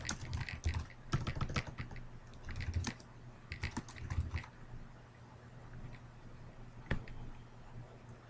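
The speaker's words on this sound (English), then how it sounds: "If I can type." Someone types on a computer keyboard at close range in quick bursts of clicky keystrokes, pausing and then tapping a single key near the end, quiet and without talking.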